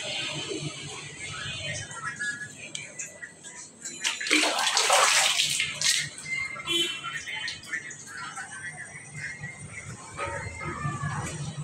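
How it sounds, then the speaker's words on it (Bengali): Water pours and splashes onto potted plants during routine home garden care, rising into a louder gush midway and then settling back. Faint background noises and some talk run underneath. "গাছগুলোতে পানি দিয়ে নিই।"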